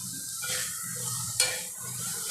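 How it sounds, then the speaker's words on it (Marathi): Green peas go into a hot pan and are stirred while cooking puri bhaji: a steady sizzle broken by a few sharp scraping stirs of the utensil, close up, with no talking. "नंतर वाटाणे घालूया."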